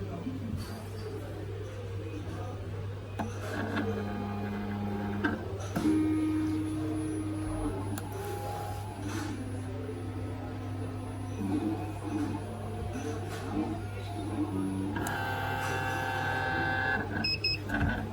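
A Cullera TK 01 Pro nano film cutting machine works through a cut, its stepping motor emitting shifting tonal whirs and buzzes over a constant low hum for about eighteen seconds.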